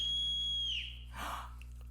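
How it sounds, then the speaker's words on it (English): A steady, clear whistle tone blown as a signal in a household scene from The Sound of Music (1965), held for under a second and then cut off, followed by a faint breathy noise over a constant low hum. "She showed him what it felt like to be whistled at."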